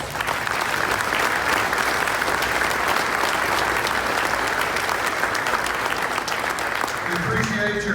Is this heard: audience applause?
yes